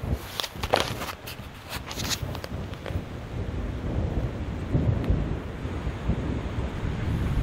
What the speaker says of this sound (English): I'm hoping for a pretty decent thunder and lightning storm tonight